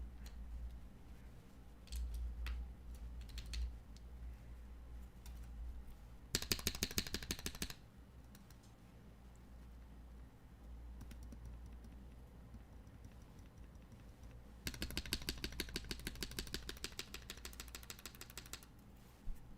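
Typing on a custom tenkeyless mechanical keyboard with lubed switches of about ten mixed types. It comes as two bursts of rapid, even key clicks, close and crisp, separated by quieter stretches, with no talking.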